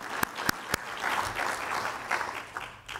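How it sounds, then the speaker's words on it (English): An audience at a Missouri S&T Kummer Day ceremony applauds, three sharp loud claps up front giving way to a dense, sustained round of clapping that swells and eases near the end. "Why don't we give them another round of applause?"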